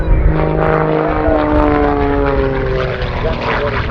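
A Rebel 300 aerobatic propeller plane roars overhead at an airshow, its engine drone loud and shifting in pitch as it manoeuvres, with a commentator's voice partly audible beneath.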